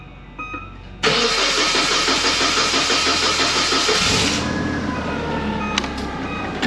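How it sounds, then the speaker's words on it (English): A natural gas powered forklift cranks and fires up abruptly, settling into a loud steady mid-pitched engine drone that drops to a lower idle after a few seconds, heard close and alone. "Let's get a smaller forklift. This should work. Powered by natural gas."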